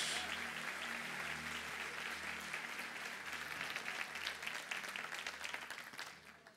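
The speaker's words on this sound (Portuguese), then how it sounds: "Dê um aplauso bem forte ao nome do Senhor por isso." A church congregation applauds strongly and continuously, dense clapping filling the room, with a low electronic hum or keyboard tone running underneath.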